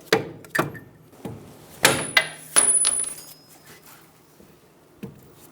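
Bolts come out of a front strut on a 2010-2014 Subaru Outback with a scatter of sharp metallic clanks and knocks, plus a brief high-pitched tool whine partway through, in a quiet workshop.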